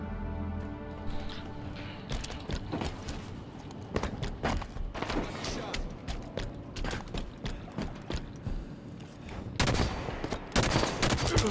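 Halo 5 multiplayer gunfire: rapid, repeated shots in dense bursts with mechanical clatter and footsteps, fairly close and steady across the whole stretch, getting heavier near the end.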